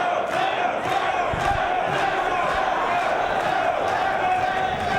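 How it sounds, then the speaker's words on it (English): Wrestling crowd at a 2-out-of-3 falls match between Paul London and Bryan Danielson, a dense, steady roar of many voices with rhythmic chant-like swells throughout, loud and continuous. "The crowd either chanting, "Please don't tap," or "tap.""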